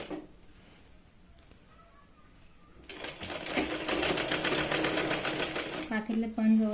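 Interlock sewing machine running fast and steady, stitching a sherwani seam; a quiet stretch of faint handling opens, then the close, dense machine whir takes over and carries to the end.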